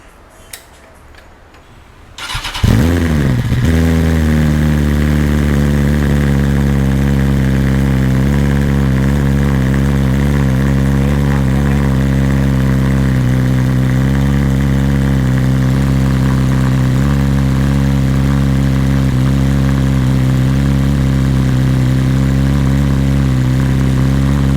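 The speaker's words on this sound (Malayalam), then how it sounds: "അപ്പോൾ ഇതിൻ്റെ കൂടി എക്സോസ്റ്റ് നോട്ട് നമുക്കൊന്ന് കേട്ടു നോക്കാം" A BMW S1000RR superbike fires up after a brief starter crank, then settles into a loud, steady, close exhaust idle that holds for over twenty seconds.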